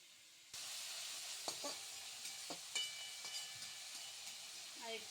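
Food frying in a pan makes a soft, steady hiss that starts about half a second in, with a few light clicks and pops over it and no speech.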